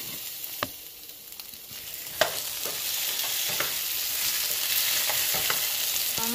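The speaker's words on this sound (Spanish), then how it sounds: "Voy a agregar el jitomate, la cebolla y el chile guajillo para que se vayan sofriendo." Tomato, onion and guajillo chile frying together in a pan, a strong steady sizzle that thickens over time, with a few sharp clicks of a spoon against the pan, close by and with no speech.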